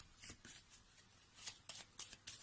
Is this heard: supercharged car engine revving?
no